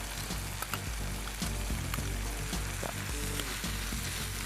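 Tomato and onion sautéing in a pan, a loud, continuous close sizzle with repeated scraping stir strokes falling in a regular rhythm throughout.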